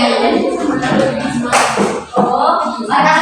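Hands clapping in a mosquito-catching game at a group activity: loud, sharp claps with bursts of crowd noise and voices mixed in, close and energetic.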